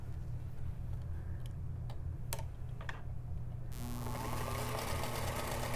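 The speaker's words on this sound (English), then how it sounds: "So we're going to sew this one, making sure we've got those edges nice and lined up." A few light ticks and taps give way to a sewing machine starting up and running steadily, a close, even mechanical whir with a constant hum, while it sews a quilt insert panel with the edges lined up.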